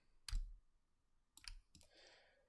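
Faint, isolated computer keyboard key clicks during animation software work, one sharp tap, a pause, then two quick taps in close succession, quiet and alone.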